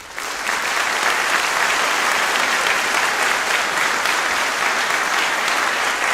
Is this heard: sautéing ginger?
no